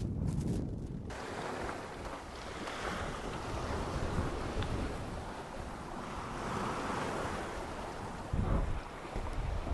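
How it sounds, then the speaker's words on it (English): Strong wind and surging waves rush steadily around a sailboat at sea at night on a transatlantic passage toward the Azores, with buffeting gusts on the microphone and a heavier thump of water near the end. "We've got a night where the wind is coming a little bit out of the west and slightly to the north"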